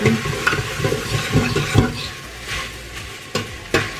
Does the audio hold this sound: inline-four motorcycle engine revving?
no